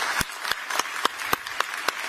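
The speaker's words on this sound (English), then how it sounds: "let's give another massive round of applause for President of the European Commission, Ursula von der Leyen" Audience applause following a speech by the President of the European Commission at a European security event, a steady dense roar of clapping with regular louder claps standing out in an even rhythm.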